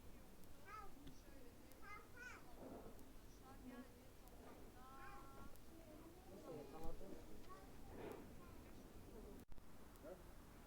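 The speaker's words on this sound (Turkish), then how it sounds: "Kediler." Several cats meow on and off, soft and close, with a quiet voice murmuring between the calls.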